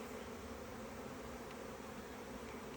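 A steady, dense hum of many honeybees droning together inside an insulated Langstroth hive, continuous and fairly quiet throughout, with no voices.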